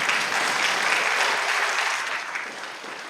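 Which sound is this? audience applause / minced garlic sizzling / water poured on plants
audience applause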